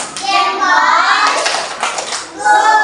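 A class of children doing a thumb-clap chant in an Indonesian primary classroom, with rhythmic young voices and some hand sounds running steadily throughout, close and fairly loud.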